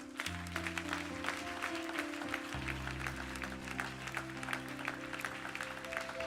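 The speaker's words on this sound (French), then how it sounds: "Est-ce que tu peux acclamer le Seigneur?" A church congregation claps and cheers in praise, a steady wash of many hands applauding, fairly faint and continuous, with sustained organ or keyboard chords held underneath.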